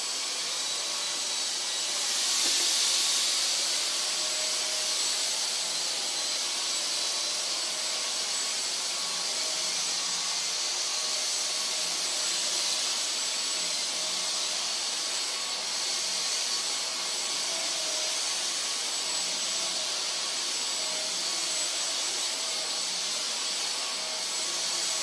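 A Dyson DC44 cordless vacuum cleaner on its normal setting picks up a spill, producing a steady, close, high whirring hiss that runs unbroken and nearly level throughout with only slight swells.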